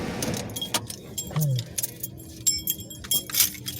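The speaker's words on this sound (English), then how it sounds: "Shut the car off here real quick." Keys jangle in close, bright metallic clusters after a car is shut off, with soft rustling and faint handling noises between the jingles and a quiet low hum underneath.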